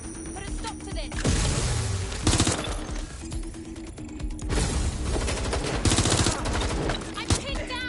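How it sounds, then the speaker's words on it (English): Gunfire erupts in the video game Watch Dogs Legion, dense automatic bursts and sharp shots crackling loudly and almost continuously in a chaotic firefight, with game dialogue voices mixed in. "Suspect is shooting."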